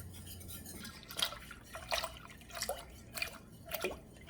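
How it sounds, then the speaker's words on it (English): Milk is poured into a pot of Jamaican jerk mac and cheese, giving soft, faint liquid splashes and drips in a series of short bursts over a quiet kitchen background. "Now comes the milk."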